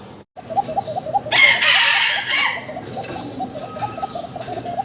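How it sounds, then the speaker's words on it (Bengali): Pigeon cooing from a white Paushiraj cocker pigeon, repeated rhythmic coos close by, with a louder burst of rustling or flapping midway and other birds faintly around. "ককার ডাক শুনতে পারতেছেন"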